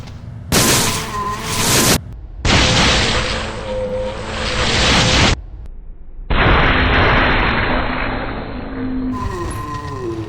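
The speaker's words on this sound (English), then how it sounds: "We're gonna take this Magnum, since it's the only one, and we're gonna take it to a standard zombie's head for a massive critical headshot" Magnum revolver headshots on a standard zombie in Resident Evil: Dead Aim: three loud, booming shots in quick succession, each a heavy blast that rings out for about a second, with game sounds in the gaps.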